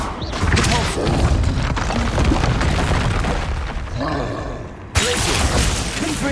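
A Repulsor spell blast in Hogwarts Legacy lands amid a dense barrage of booming spell impacts and crashes, loud and continuous, with a sharp new burst near the end.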